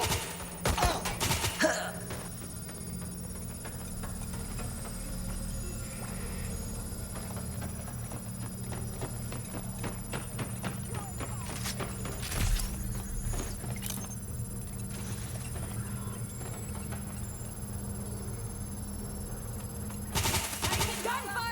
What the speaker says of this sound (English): Taking gunfire.